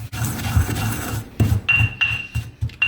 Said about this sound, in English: but I just love my mortar and pestle.